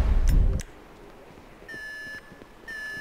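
An alarm in GTA 5 sounds after a loud explosive thud, then steady electronic beeping tones that stop briefly and resume. It is moderately loud, with no talk over it.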